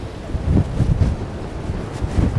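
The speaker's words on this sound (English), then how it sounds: "Do you know this kind of wind, it could just blow you off your feet?" Strong gusty wind in Liverpool buffets the microphone outdoors, a loud continuous roar with rumbling surges throughout, no talking.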